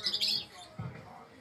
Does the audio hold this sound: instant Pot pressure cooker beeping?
no